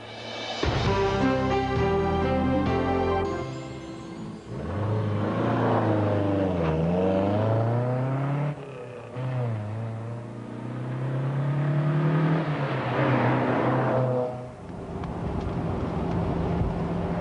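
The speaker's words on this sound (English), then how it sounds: "This car is a Lotus Elan S2, built in 1965." A 1965 Lotus Elan S2 sports car engine revs hard and accelerates, its pitch sweeping up and down through several gear changes, close and steady for most of the stretch.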